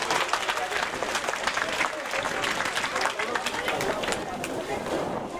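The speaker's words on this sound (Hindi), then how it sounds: "जोरदार तालियों की गड़गड़ाहट के साथ आप उस माँ का सम्मान कीजिए" Applause and crowd noise honour the mother of a fallen BSF soldier at a martyr's statue unveiling ceremony in Balsamand, a dense, steady wash of clapping with babble mixed in throughout.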